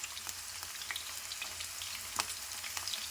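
Green chillies and onions fry quietly in a pan of oil, a soft steady sizzle with scattered light spits and crackles and no speech.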